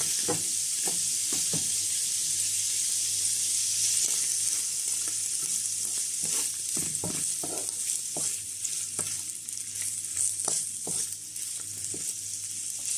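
Prawns fry in vegetable oil in a pot on the stove, giving a steady close sizzle broken by frequent stirring clicks and scrapes throughout.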